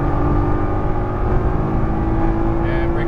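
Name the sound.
Nissan GT-R engine accelerating at full throttle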